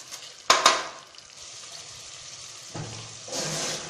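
Masala and eggs fry in oil in a pan with a soft, steady sizzle, broken by a sharp clatter of a utensil at the start and a later burst of louder hissing.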